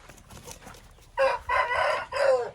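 An Aseel rooster crows nearby, a loud drawn-out call in three strained bursts after a moment of quiet background.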